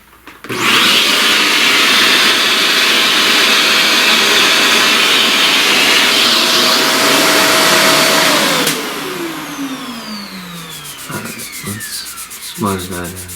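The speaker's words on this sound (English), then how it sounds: "Alright, let's vacuum all that." A vacuum cleaner runs loud and steady for about eight seconds, sucking up pastel dust from a flower drawing, then its motor winds down with a falling whine and a few clunks follow.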